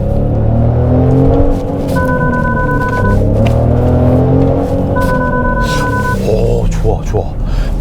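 An engine drones and climbs in pitch as a Genesis GV70 accelerates hard, with someone talking over it and brief electronic tones sounding twice.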